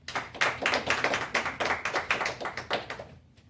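A church congregation bursts into applause inside the temple, a dense, steady run of many hands clapping for about three seconds before it fades at the end.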